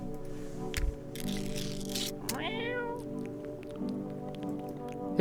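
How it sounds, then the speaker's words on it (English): A cartoon cat meows in the video game No, I'm Not A Human after being given canned cat food, with a wavering, rising meow near the middle over a steady game music bed. "Feed the cat some canned food."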